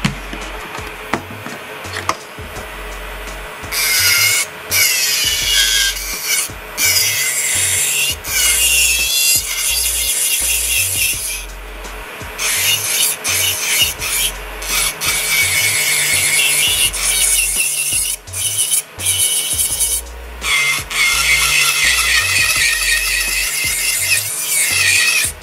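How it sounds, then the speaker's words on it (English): Electric nail drill on low speed filing acrylic on a swatch stick, a close, loud grinding rasp in repeated bursts over a low motor hum, likely from a nail dust collector. "I'm going to go and find a swatch stick that I put some acrylic on and get my nail drill out."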